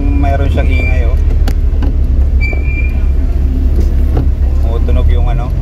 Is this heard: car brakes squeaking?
yes